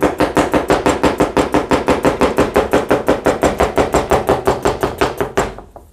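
Rapid, steady knife chopping of food on a cutting board by a chef demonstrating fast cutting technique, about a dozen crisp strokes per second, loud and close, ending abruptly after five seconds.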